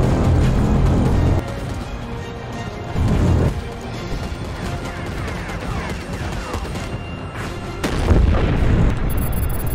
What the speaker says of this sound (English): I'm liking this artillery gun now.